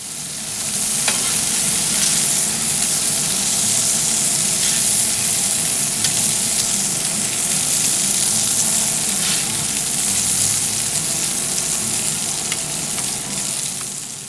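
Smash burgers sizzle steadily on a Traeger pellet grill griddle, a loud close continuous frying hiss with crackling spatters throughout and no talking.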